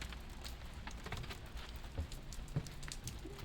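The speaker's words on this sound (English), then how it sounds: "Prove to you it's raining." Steady rain patters down outdoors on rainy-day ground and surfaces, a soft continuous wash with a few louder individual drops landing close by, fairly faint overall and with no one talking.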